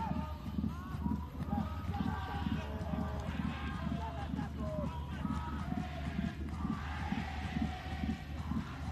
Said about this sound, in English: You can hear the crowd every time there's a moment for the young Garuda.